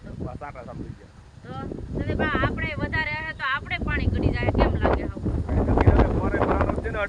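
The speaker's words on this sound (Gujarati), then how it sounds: "કેટલો ઉડો છે વાવાઝોડો જેવો પવન ઉડો છે" Strong, storm-like wind during a village windstorm with rain roars and buffets against the microphone in a continuous low rumble. A person talks over it throughout.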